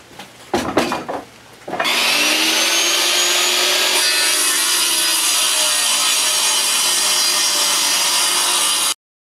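A table saw cuts rough-cut lumber for a large mirror frame. A few knocks of wood handling come first, then a loud, sustained saw whine runs for several seconds as the blade rips through the board and stops abruptly.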